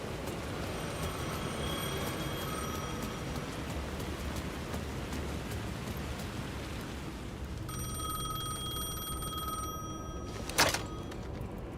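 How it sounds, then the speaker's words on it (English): A telephone in Alan Wake 2 rings with repeated electronic trills, steady at first, pausing, then resuming near the end, set over a constant hiss of rain; a sharp knock or clatter briefly cuts through late on. "The phone was ringing again."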